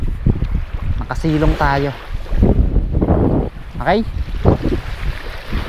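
Strong wind buffets the microphone outdoors in an open, treeless fishing spot, a constant low roar rumbling beneath someone talking throughout.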